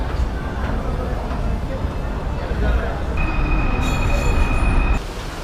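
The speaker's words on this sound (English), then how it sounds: "We're now headed again with the subway to the Petronas Towers." Subway train ride in Kuala Lumpur, a loud continuous rumble of wheels on rails with rising metallic squeal tones near the end, heard from inside the carriage.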